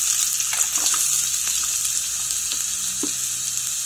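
Garlic, onion and ginger frying in hot oil in a pan, a constant hissing sizzle with scattered light crackles and a few soft stirring knocks, close and steady throughout.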